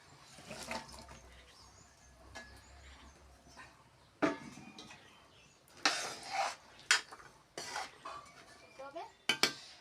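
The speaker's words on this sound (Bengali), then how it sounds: "এখানে আমি দিয়ে দেব পেঁপে, তারপর ডাঁটা, আর এই যে জারি কচুর ডুবা" Papaya pieces, vegetable stalks and arum are dropped into a pot of boiled dal for Manipuri dal, making irregular clinks, clatters and wet splashes of metal cookware. A person talks faintly under the sounds.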